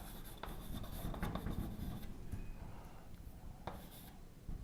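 Chalk or marker strokes on a board during a mathematics lecture on sheaves, a steady run of short scratching and tapping marks over quiet room tone, with no talk.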